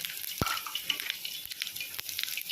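Chana dal and cumin frying in hot oil, a light crackling sizzle scattered with small sharp pops, close by and fairly quiet.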